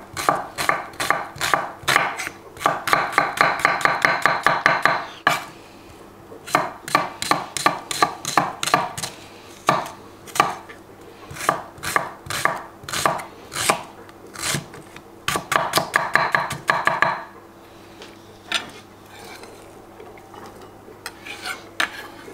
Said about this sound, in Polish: Jedna cebula, pokroję ją szybko w kostkę.